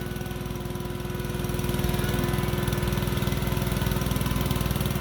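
A Cat 313D2 GC excavator digging a pond runs steadily with a chugging diesel rhythm that grows slightly louder after the first seconds, heard close and without voices.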